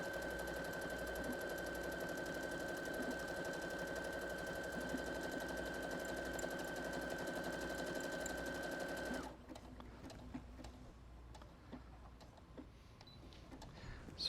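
A Brother Innovis NS80e sewing machine stitches reinforcement at a fast, steady mechanical whir with rapid ticking, close and clear, then stops abruptly, leaving quiet handling noises.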